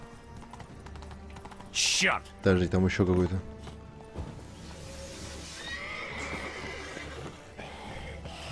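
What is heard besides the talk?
knight's horse whinnying and hooves, video game The Witcher 3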